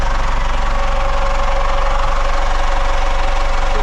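A boat engine idles steadily up close, a constant low mechanical drone with a faint knocking pulse and no breaks.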